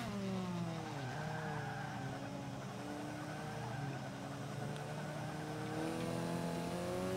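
A C-class Alfa Romeo race car engine in Forza 5 drones and revs steadily, with rising and falling harmonic pitches through gear changes, loud and continuous with a hint of tyre noise.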